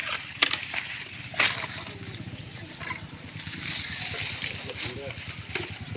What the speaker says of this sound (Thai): เพื่อจะล้างดินล้างโคลนออกให้นะครับผม